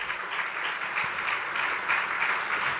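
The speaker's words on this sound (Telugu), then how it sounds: "చప్పట్లు కొట్టి దేవుని స్తుతించండి" A church congregation claps together in praise of God, a dense, steady wash of applause that holds even and loud throughout with no voices breaking through.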